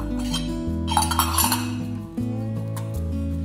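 Metal surgical gully pots and kidney dishes from a 54-piece anal fistula instrument set clink and rattle against each other, close and bright, over a sustained background music bed.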